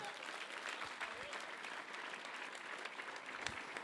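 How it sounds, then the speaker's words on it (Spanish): Congregation applause in a Spanish-language church service, steady massed clapping held at a fairly faint, distant level for the whole stretch. "Denle un fuerte aplauso al Señor."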